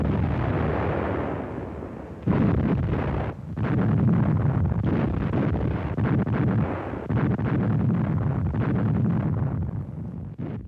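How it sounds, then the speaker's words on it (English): German 21 cm Mörser heavy howitzer firing together with 150mm heavy artillery, 105mm medium guns and Flak in autumn 1943, a dense run of loud, booming blasts and rumbling reports with wind buffeting, no talk. "this sequence shows a 21-centimetre Mirza operating alongside 150mm heavy artillery, 105mm medium guns and Flak"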